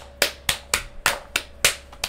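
Sparse applause from a tiny audience of about six people, seven distinct sharp claps spaced irregularly and heard alone without voices.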